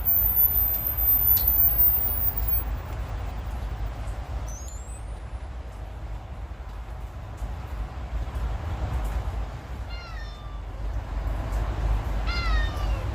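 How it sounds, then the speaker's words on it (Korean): Faint, distant meows come twice, a short cry and then a few repeated ones, over a constant low rumble of background noise. "좀 전에 고양이 우는 소리가 들렸는데"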